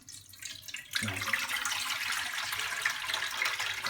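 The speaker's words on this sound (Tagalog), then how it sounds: "maglagay muna tayo ng tubig sa kawali" Water starts running after a second of quiet and pours steadily, a bright splashing rush as it fills a pan nearby.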